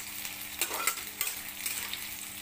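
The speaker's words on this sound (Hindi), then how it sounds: "प्याज को अच्छे तरह से चला लेते हैं।" Thick-cut onions stirred and frying in a pan for pasta Maggi: a soft, continuous sizzle with irregular spatula scrapes and taps, close and fairly quiet, no talking.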